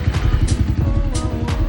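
A 110cc dirt bike engine idles steadily just after a cold start, its near, loud, low putter running in a fast even rhythm with a little mechanical clatter on top.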